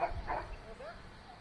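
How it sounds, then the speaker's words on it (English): Dog barking somewhere along the seafront at Sheringham in Norfolk on a late afternoon: a couple of short yips and barks at a middle distance over outdoor ambience. "the odd dog barking as well"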